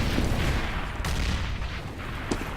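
A grenade blasts in a Counter-Strike match on the Train map, a loud burst of booming explosions and crackling gunfire-like bangs layered in a busy, rumbling mix.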